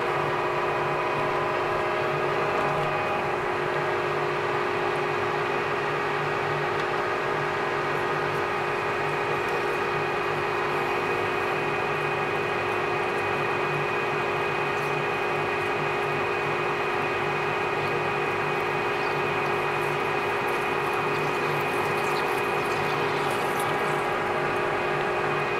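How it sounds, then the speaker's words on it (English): A lathe runs steadily with its coolant pump on while threading a 3-inch steel bar for quarry equipment, giving a constant whirring hum with a faint liquid wash underneath and no talking. "Go ahead and turn our coolant on."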